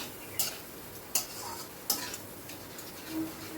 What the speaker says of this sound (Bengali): মশলাটা এবার ভালো করে কষিয়ে নিতে হবে, খুব ভালো করে মশলাটা কষিয়ে নেব